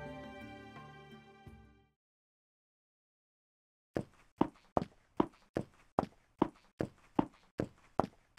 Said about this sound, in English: and now we should have in-game footsteps.